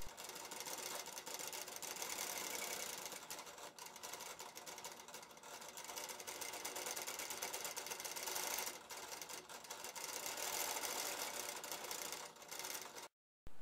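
A sewing machine motor running in stitch regulation mode hums continuously at close range, with a steady whirring drone that barely changes for over twelve seconds before cutting out.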